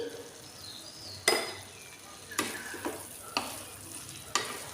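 Shukto of bitter gourd and plantain being stirred in a pan, with a soft simmering sizzle beneath several sharp spoon scrapes and knocks against the metal at irregular intervals, close and fairly quiet.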